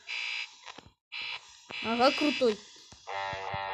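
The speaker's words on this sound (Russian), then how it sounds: "Это звук его носика." Button-press nose sound of a character in the horror game Five Nights With 39, a series of short electronic buzzing beeps with brief gaps between them, loud and close, with someone speaking briefly over them.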